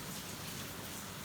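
Rain falls outside in a faint, continuous patter and hiss, soft and distant, with no voices.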